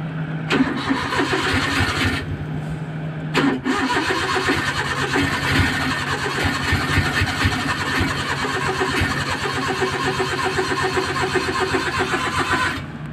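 An overheated Suzuki F6A small car engine cranks over and over with a steady churning whir, stopping briefly before cranking again, never catching.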